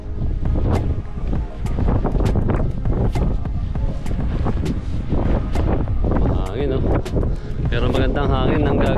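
Strong wind buffets the microphone at a beach, a loud continuous roar with gusty bursts, while someone talks over it throughout.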